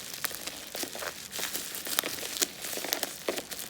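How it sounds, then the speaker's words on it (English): Triple-layer bubble wrap is pulled and unwrapped from a package close by, producing continuous crinkling and crackling with sharp, irregular pops and rustles. "bubble wrap here"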